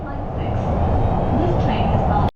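Steady low rumble and rolling hum inside a moving subway train in Suzhou, China, continuous and fairly loud throughout, with faint voices murmuring in the carriage.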